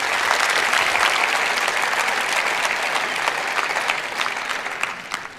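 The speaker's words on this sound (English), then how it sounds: "give a warm round of applause for Eduardo" A conference audience gives a warm round of applause for the speaker Eduardo, the clapping dense and loud, sustained for several seconds before tapering slightly at the end.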